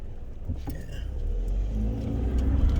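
A truck drives past on a nearby road with a steady, rumbling engine that swells slightly as it goes by, heard alone without talk.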